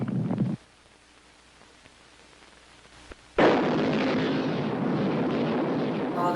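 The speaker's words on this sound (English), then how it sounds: "The United States decided to use its new antimatter bomb." Antimatter bomb explosion sound effect: a sudden booming blast that follows a brief quiet pause, then a loud, sustained roaring rumble that keeps going to the end.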